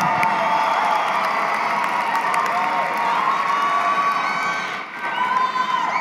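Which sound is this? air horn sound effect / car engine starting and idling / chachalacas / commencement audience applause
commencement audience applause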